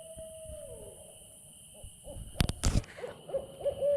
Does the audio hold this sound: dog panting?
no